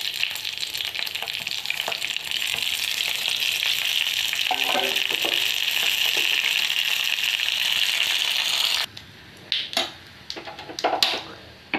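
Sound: tempering spices sizzling in hot oil

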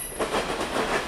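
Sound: freight train passing with BNSF locomotive and mid-train DPUs

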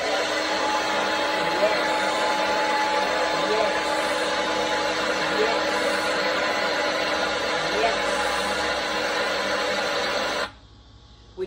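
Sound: hairdryer sound played for puppy training

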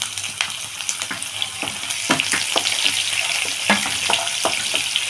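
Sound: onions frying in a pan for puliyogare

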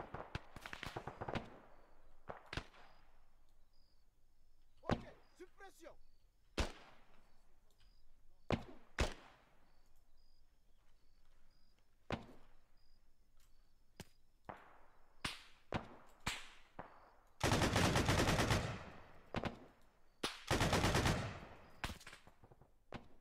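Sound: gunfire from a video game, someone shooting at the player

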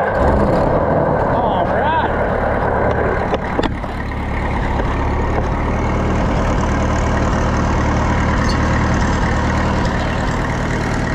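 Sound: Oliver 66 Super tractor engine running

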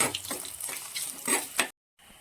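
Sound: frying shallots in a pan

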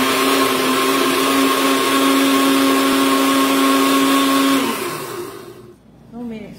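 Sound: blender blending Oreo cookie ice cream milkshake

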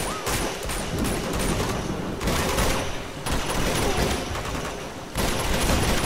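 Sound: gunfire while killing enemies in the video game Uncharted 2

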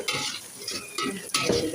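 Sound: meat stirred in pan after adding cumin

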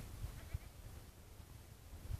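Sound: goat bleating in a stable

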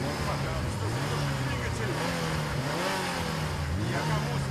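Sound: Lamborghini Diablo engine running and revving

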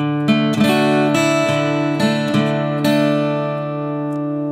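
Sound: guitar playing part of a song

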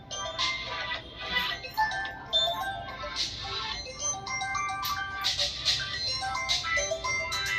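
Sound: phone ringtone

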